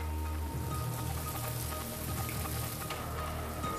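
Heavy monsoon rain pouring down in Maval taluka, a dense continuous patter of drops on surfaces at steady loud level with no voices.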